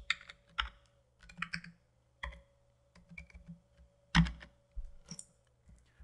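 Part number typed on a computer keyboard, with quiet, irregular clusters of key clicks and taps separated by short pauses and one louder keystroke, close and alone.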